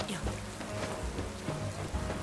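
Rain pours steadily in Pokemon Legends Z-A, a dense patter on surfaces that runs continuously at moderate level with faint game tones underneath.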